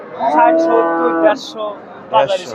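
A cow moos loudly and close at the Chandaikona cattle market in Bangladesh, one long drawn-out call followed by a shorter second one, with brief noises between them.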